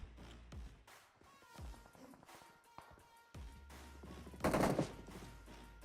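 Gunfire in the mobile battle royale game PUBG Mobile, scattered sharp shots across the clip with a louder, denser burst near the end, set against low game ambience.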